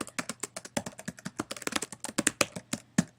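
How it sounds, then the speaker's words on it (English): Fingers tap away on a computer keyboard, a quick irregular run of crisp close keystrokes in bursts with brief pauses, and nobody talks. "I can type over here."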